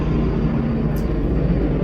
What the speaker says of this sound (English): let's wait for the helicopter to pass